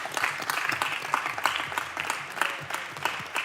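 Committee members at a House bill markup applaud together, a brief, dense patter of many hands clapping in a room, steady and moderately loud with no voices over it.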